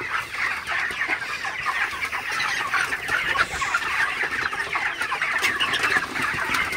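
Dense chorus of many broiler chickens clucking and chirping together, continuous and close, with no talking.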